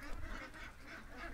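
Ducks quacking in a farmyard, a steady, dense chorus of overlapping calls at moderate distance with no pauses.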